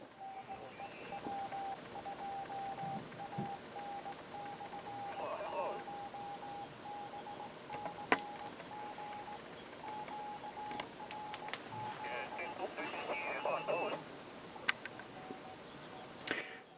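A two-tube regenerative radio receiver plays faintly through a speaker during a special-event amateur radio contact, giving a steady keyed tone in on-off bursts over soft hiss and static crackle.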